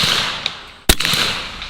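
A single sharp, loud crack from a Bintac T50 air rifle rings out near the middle. Faint clicks come before it, and a soft metallic tail follows.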